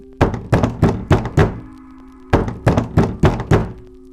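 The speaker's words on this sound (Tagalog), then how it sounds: "Isang malakas na katok. Sunod-sunod." Loud, heavy knocks pound on a bedroom door in two quick bursts of about five blows each, separated by a short pause, with a low hum in the background.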